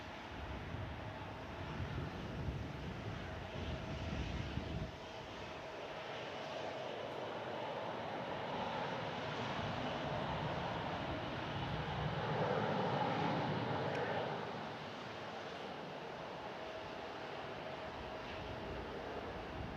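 A Southwest Airlines airliner on a taxiway at San Francisco airport gives a steady, fairly faint jet engine rumble and whine that rises slightly near the middle and holds on without talk.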